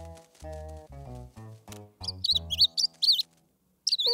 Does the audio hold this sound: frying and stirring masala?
no